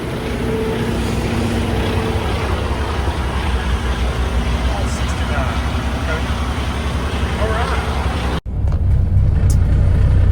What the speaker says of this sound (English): this is that morning traffic in Dallas